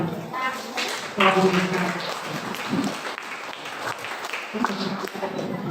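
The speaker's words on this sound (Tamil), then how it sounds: "நம்ம எல்லாரும் சேர்ந்து இன்னொரு பாராட்டு கொடுக்கலாமே" A crowd at the Thaipoosam Thiruvizha festival in Mettukuppam applauds the children, with clapping rising after a second and carrying on steadily, mixed with voices and background talk.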